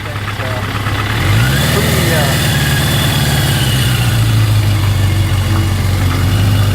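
An exotic MV Agusta motorcycle of over 180 horsepower runs close by, its engine a steady, loud rumble that rises slightly in pitch as it settles into a sustained drone.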